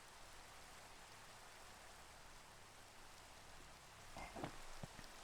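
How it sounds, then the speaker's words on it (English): Steady hiss of rain in a Minecraft modpack world, soft and continuous, with a few brief thumps and clicks of game activity near the end. "let's just go sleep so we get rid of this beautiful, wonderful, marvelous rain"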